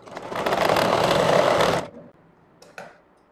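A sewing machine runs steadily while stitching a frock, a loud continuous whir that stops abruptly, followed by a couple of faint clicks.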